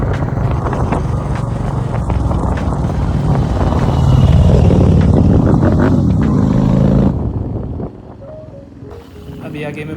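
Royal Enfield GT650 motorcycle with an aftermarket exhaust revving near the Assam border, a loud rough engine roar that swells midway, then drops off abruptly to a quieter idle, with voices around it.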